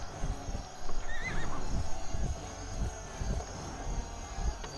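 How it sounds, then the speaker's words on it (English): A horse in the medieval strategy video game Wars and Warriors: Joan of Arc gives a clear, high whinny, with clip-clop hoofbeats and other game sounds around it. "And there's another horse here"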